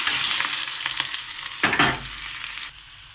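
Raw egg and spices fry in oil in a wok with a loud, close sizzle and a few stirring scrapes, then a burst of crackle when more goes in before the sound drops away at the end.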